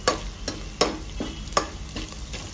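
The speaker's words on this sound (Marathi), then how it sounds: "हे पण असे परतून घेऊया चांगले." Garlic sautéed in a pan for veg pulao, a light sizzle broken by a steady series of sharp spatula scrapes and clicks about every half second, faint and close, no talking.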